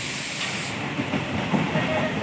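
A Katwa–Rampurhat MEMU train runs through rain, giving a steady rumbling hiss with faint rhythmic wheel clatter, heard from inside the carriage, while a voice talks softly beneath it.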